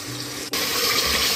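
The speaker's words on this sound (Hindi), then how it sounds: "अब हम इसमें इस स्टेज पे ज़रा सा भून कर पानी शामिल करेंगे।" Water pours steadily from a tap into a cooking pan of browned meat and taro, a continuous close rushing stream that briefly cuts out and resumes, with no talk.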